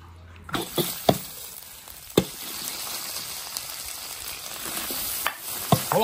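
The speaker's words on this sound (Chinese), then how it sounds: "这猪肝就这样炒，把它炒香" Pork liver stir-fried with pickled vegetables in an iron wok, a continuous close sizzle broken by sharp scraping and clanking strokes of the spatula at irregular intervals.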